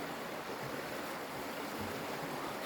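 A cold, shallow river flows in a steady, even hiss of rushing water, moderately loud and continuous, with no voices.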